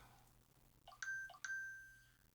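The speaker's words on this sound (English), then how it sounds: "Sorry, my phone's beeped." A phone notification sounds as two quick, clear electronic chime tones in succession, close and fairly faint against quiet background hum, with no talk.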